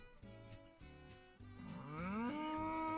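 Cattle mooing in Agricultural Simulator 2013, a farm video game: long, loud, drawn-out moos overlap one another across the whole stretch, and the last call rises steadily in pitch before holding.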